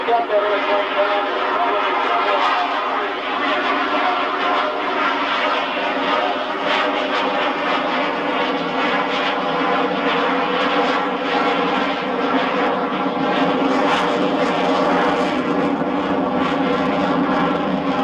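A Spitfire's piston engine drones steadily in a slow, nose-high pass along a shoreline, a sustained rumbling tone that swells slightly while a voice talks over it.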